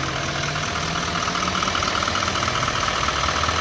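A 2017 Chevrolet 2500HD pickup with a Duramax diesel engine idles steadily under an open hood, a dense, even rumble with a faint diesel clatter running unbroken throughout.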